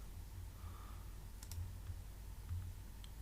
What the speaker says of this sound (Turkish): tık tık tık diye hızlı bir şekilde yazabiliyorum